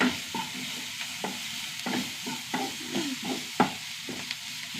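Green chilies frying in a pan with ginger and garlic paste, a steady sizzle broken by repeated scraping stir strokes at an uneven rhythm, close and fairly loud, with no voices.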